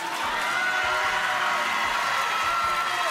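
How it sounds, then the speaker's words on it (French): Studio audience on a French TV game show breaks into steady, loud applause with cheering, a dense continuous wash of clapping and crowd noise throughout. "On applaudit Zénis."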